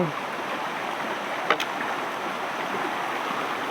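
A mountain stream on the Sathuragiri trek rushes steadily, a broad continuous wash of flowing water close by, with one brief sharp knock partway through.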